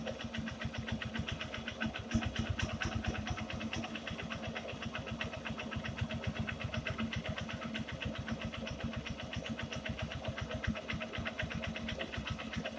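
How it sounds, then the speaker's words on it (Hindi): A Honda Shine SP 2019 motorcycle idles after a carburetor air screw adjustment, its single engine beating in an even, steady thump close by, with no talk over it. "देखिए बाइक एक रिदिम में आ चुका है"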